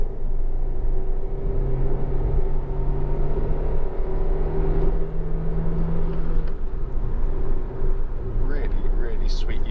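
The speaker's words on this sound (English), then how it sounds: "I'm just going to shut up a second just so you can hear the engine rev out." A 2011 Honda Civic 1.4 i-VTEC Ti five-door on a rough road, its engine revving with a steady droning rumble and rising hum, heard from inside the car under heavy road noise.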